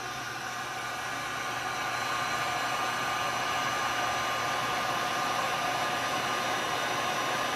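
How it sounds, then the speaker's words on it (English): A Wagner Furno 550 heat gun runs steadily on its top fan setting at medium heat, a constant close, loud airflow whir and hiss that holds level throughout with no talk. "This is the Wagner Ferno 550. And I'm going to turn it on to its top fan setting and just a medium heat."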